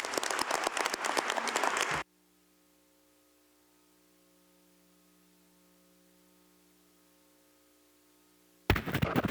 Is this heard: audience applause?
yes